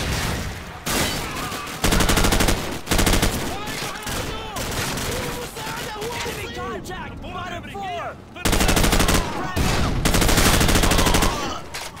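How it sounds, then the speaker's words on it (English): Heavy gunfire in the Call of Duty 4: Modern Warfare shooter, loud bursts of automatic fire in rapid volleys with brief gaps, shouted voices between the bursts. "Suppressing fire!"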